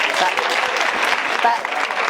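A comedy club audience bursts into applause during a French stand-up set, dense clapping close and loud, with a voice faintly present beneath it.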